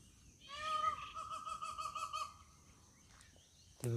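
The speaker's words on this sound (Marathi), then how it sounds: "ते बघा मोर" A peacock in the Ananthagiri Hills near Hyderabad during the monsoon gives a drawn-out series of nasal, honking calls that rise clearly above quiet background. A faint brief noise and a short thump follow.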